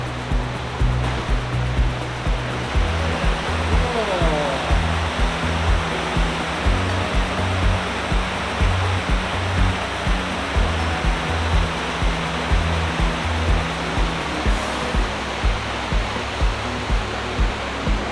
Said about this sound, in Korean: 여기가 쌍곡 폭포인데요